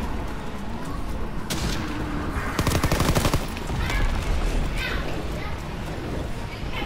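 Quick bursts of video-game gunfire crackle over a busy, noisy game soundscape, with a denser rattling volley in the middle and scattered shots around it, while voices talk faintly underneath.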